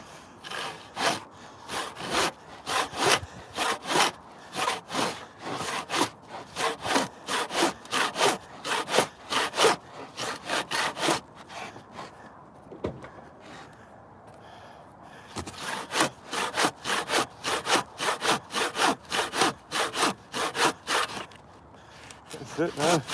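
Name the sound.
hand saw cutting wood for raised beds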